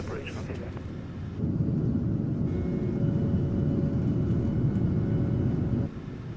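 Simulated airliner engines climbing out after takeoff from Congonhas in a GOL Boeing 737NG flight simulation, a steady loud low roar that swells and holds, then eases near the end; faint voice traces may sit beneath it.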